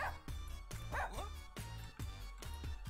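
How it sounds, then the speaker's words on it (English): Video game dogs from Russian Subway Dogs yap repeatedly, about half a dozen quick barks spaced evenly over a backing music track. "God, those dogs are really going for it."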